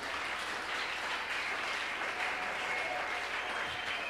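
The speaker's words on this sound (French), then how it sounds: "On acclame le Seigneur Dieu." A congregation at a 25th-anniversary church celebration seminar applauds in acclaim of God, a steady, continuous wash of clapping that holds evenly without a break and sounds somewhat distant.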